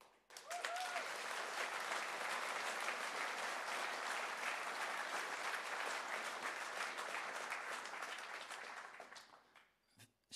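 Sustained applause from a large audience at a political speech, a dense, even roar of clapping that holds for about nine seconds before thinning out and fading.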